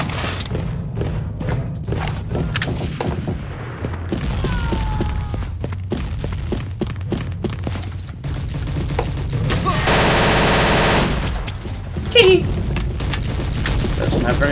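Rapid gunfire in the Day of Defeat video game: dense bursts and booming shots come close and loud through most of the stretch, mixed with thuds, while a player talks over the action.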